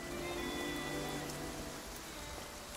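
Steady rain falls in the Infinity Nikki video game, an even, continuous patter of drops that holds at the same moderate level throughout, with faint tonal game music underneath.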